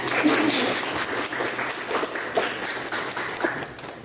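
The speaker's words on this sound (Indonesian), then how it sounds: "Tepuk tangan untuk kelompok semuanya." Classroom applause for student project groups at the end of a lesson on environmental issues: steady, moderately loud clapping from a room of students lasting throughout, with a few voices mixed in.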